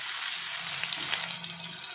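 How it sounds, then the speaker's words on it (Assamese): Potatoes fry in a little oil in a pan as part of a fish recipe, giving a steady, close sizzle that runs evenly throughout with a few faint crackles and no voices. "অকণমান তেল দি ইয়াতে আলুখিনি ফ্ৰাই কৰি দিছোঁ"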